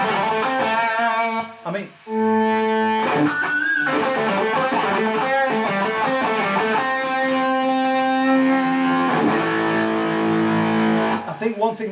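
An electric guitar played through a Wampler Pinnacle distortion pedal, its thick, saturated chords and sustained notes ringing on loudly and steadily, broken by a brief drop near the start. A voice speaks a couple of words at the outset.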